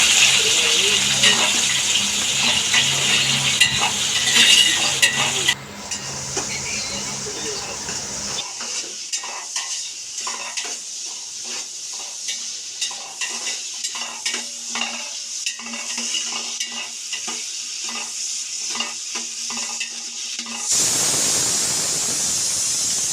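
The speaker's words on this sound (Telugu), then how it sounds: "ఉల్లిపాయలు, పచ్చిమిర్చి, టమాటా వేసి వాటిని కూడా త్వరగా వేయించుకోవాలి." Onions, green chillies and tomatoes hit hot oil in a pan for mutton paya biryani, starting with a loud hissing splash, then a quieter crackling fry with stirring scrapes and a voice speaking, before a burst of sizzle at the end.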